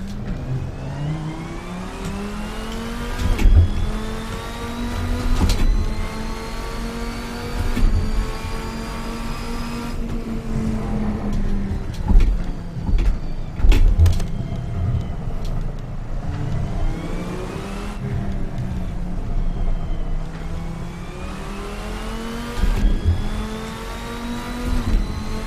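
Race car engine on a lap in Assetto Corsa with a Studio GT mod car, loud and close, rising and falling through gear changes and revs with a few bumps and thuds along the way.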